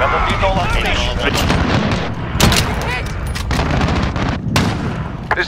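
Rapid rifle shots and booming explosions in a Modern Warfare multiplayer match, loud and dense, under overlapping game voice chatter and radio callouts.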